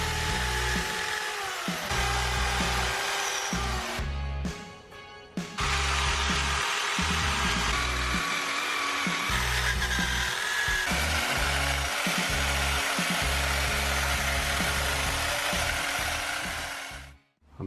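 A power tool sands paint off a Ducati Hypermotard motorcycle engine, a loud continuous grinding whir that runs nearly the whole time, with a brief drop and restart near the middle before it cuts off at the end.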